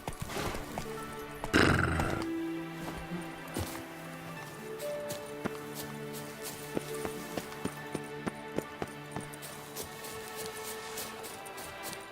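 Roach the horse gallops in The Witcher 3, hoofbeats clip-clopping in a steady run with a whinny and a loud burst near the start, set over game music and ambience.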